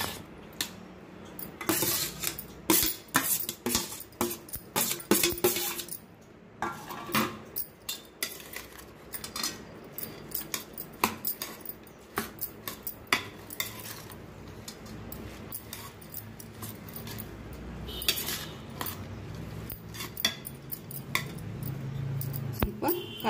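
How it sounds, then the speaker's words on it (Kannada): A spoon mixes soaked moong dal with chopped cucumber in a bowl, giving irregular clinks, scrapes and soft wet stirring close by. Someone speaks over part of it. "ಇದನ್ನು ಎರಡನ್ನು ಹಾಕಿ ಮಿಕ್ಸ್ ಮಾಡೋಣ"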